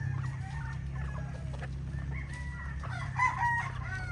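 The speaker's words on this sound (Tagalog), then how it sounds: "So ito yung mga pullets nating gray, no?" Young gray pullets cluck and crow-like calls rise from the flock over a steady low mechanical hum, with a couple of louder nearby calls near the end.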